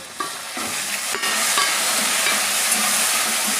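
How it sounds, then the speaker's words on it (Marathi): Tomatoes dropped into hot oil with fried garlic, bursting into a loud, dense sizzle that swells after a brief clatter and holds steady, close and continuous. "आता यामध्ये मी हे टोमॅटो टाकणार आहे"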